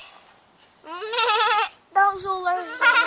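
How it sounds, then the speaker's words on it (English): A goat on rocky ground gives two long, wavering bleats, loud and close, separated by a short pause, with a fainter call before them and the start of another at the end. "There's a freaking goat there."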